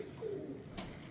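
A racing pigeon kept by a fancier coos once, a soft low throaty murmur, faint and close against quiet background hiss.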